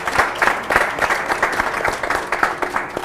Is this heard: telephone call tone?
no